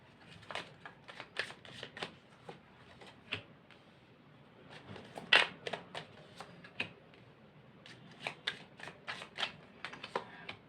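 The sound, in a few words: shuffling and drawing tarot cards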